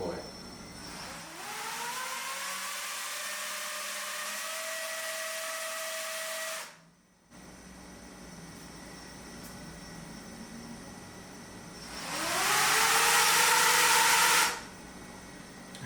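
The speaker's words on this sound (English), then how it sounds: "I have the blade spinning the wrong direction" Drone propeller blades spinning: a steady whirring whine that rises in pitch as the motors spool up, cuts out briefly, then comes back louder in a second high-pitched burst, with a person talking over it.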